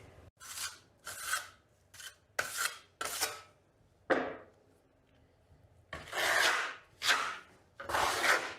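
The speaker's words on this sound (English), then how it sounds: "we're just going to use a spatula to get the plaster out of the bucket and onto the trowel. So here we go with our first coat" Trowel spreading a generous first coat of Vasari Marmorino plaster across a wall, heard as a series of loud rasping scrapes in bursts, with short pauses between strokes and a quieter stretch midway.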